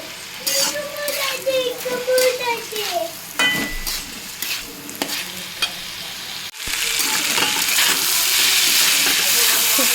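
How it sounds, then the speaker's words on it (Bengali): Rice frying in white oil in a wok over a high gas flame, a steady loud sizzle with bursts of scraping stirring, growing into a dense, continuous hiss toward the end. "সুন্দর মতো চালটা এরকম ভেজে নেবে তেলের মধ্যে সাদা তেল দিয়েছিলাম কড়াতে"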